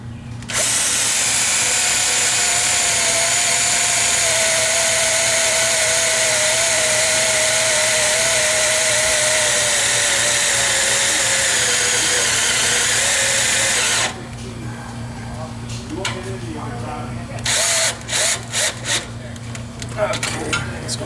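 A power drill drives screws into a fitting with a loud, continuous whine for about fourteen seconds. It then stops, followed by scattered clicks and handling clatter.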